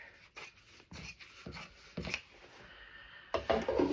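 Several crisp scissor snips trimming fabric while making a quilted pillow, close by, coming in an uneven rhythm with short pauses between cuts.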